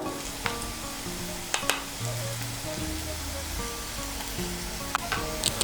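Garlic paste frying with reddened chopped onion in hot oil, a steady close sizzle throughout with occasional soft stirring scrapes and ticks.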